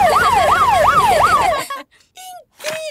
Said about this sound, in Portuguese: Papai, podemos tocar a sirene?